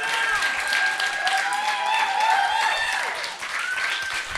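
Audience at a comedy open mic night keeps applauding, steady clapping blended with cheers and whoops from the crowd, easing off slightly toward the end.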